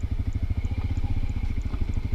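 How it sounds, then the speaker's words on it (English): Motorbike engine braking while idling down a hill, a steady rapid low thumping pulse, close and moderately loud with no talk over it. "Allowing the engine to do the braking and basically idling down the hill"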